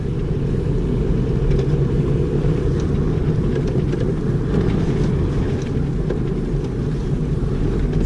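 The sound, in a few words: manual transmission car engine accelerating in third gear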